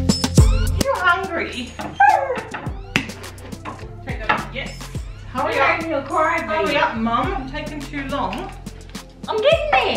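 Puppies waiting for breakfast, with repeated whimpers, yips and short barks in irregular bursts close by, mixed with clattering, while a person talks throughout.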